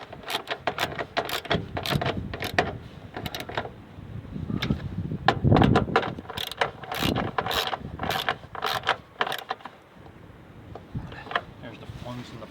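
A ratchet snugs down bolts on a John Deere lawn tractor bucket seat, giving close, rapid clicking in repeated bursts with short pauses between strokes.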